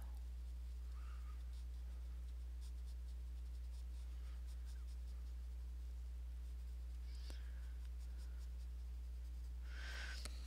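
Colored pencil drawing on paper, a white pencil used to finish the piece, heard as a soft, steady scratchy rustle of lead against the sheet throughout, faint and close, with no talking.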